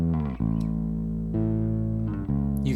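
Bass guitar with light distortion holds sustained, fuzzy-edged notes that change pitch a few times in quick succession, loud and upfront with no voices.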